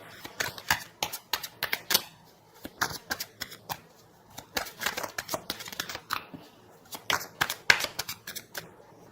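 Tarot cards are shuffled close up in quick, papery riffling bursts, repeated in an uneven rhythm with brief pauses in between.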